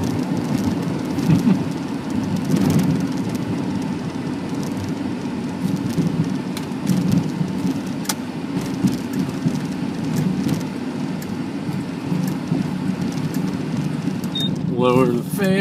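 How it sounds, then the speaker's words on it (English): Rain starting to fall on a 1987 Chrysler Conquest TSI, a steady loud wash of patter on the car inside the cabin, with the hum of the car running beneath it. "Ah, it's starting to rain."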